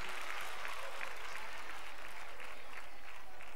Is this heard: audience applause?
yes